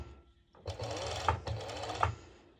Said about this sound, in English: now I'm going to take it and I'm going to serge it